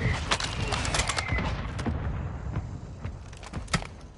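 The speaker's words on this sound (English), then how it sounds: "Copy that, mortar strike inbound." Mortar strike pounding down in the Warzone video game, a rapid barrage of sharp impacts and thuds crackling over a rumbling low end, with heavier blasts near the start and end.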